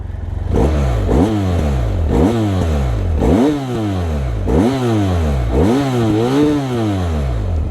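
BMW F800R 2017 motorcycle with its stock exhaust, revved repeatedly: about six loud, close throttle blips, each rising sharply then falling back to idle in a steady rhythm, no talking.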